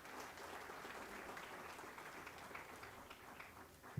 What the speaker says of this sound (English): Can we please have a big round of applause for Harsh Sharma?